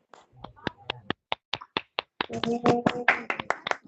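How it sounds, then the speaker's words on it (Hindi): Students in an online class clap over their speakers: a few separate, sharp claps at first, then thicker, overlapping applause. "एक बार सारे बच्चे फिर से अपने स्पीकर खोल के माही के लिए जोरदार ताली बजा दो भाई"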